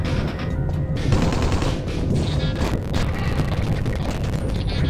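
Enemy gunfire in the video game Dead Head Fred, a dense, continuous barrage of shots and rattling bursts that carries loudly and steadily for the full stretch with no talking.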